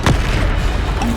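A Bombarda spell detonates in Hogwarts Legacy, a single loud booming blast with a sharp onset that fades into a rumbling tail.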